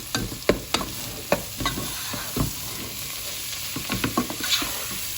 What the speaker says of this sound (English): I'm going to add the potatoes. Quickly start mixing this.